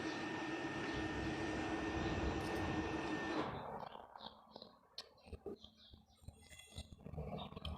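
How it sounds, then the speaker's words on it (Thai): A broad engine roar like an airplane passing fills the first half, then fades, leaving quieter scattered background sounds and birdlike chirps. "กับเสียงเครื่องบิน"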